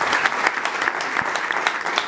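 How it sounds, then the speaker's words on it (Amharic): A church congregation breaks into dense, steady applause, many hands clapping close together in a continuous roar with no talk over it. "አጨብጭቡ ለኢየሱስ።"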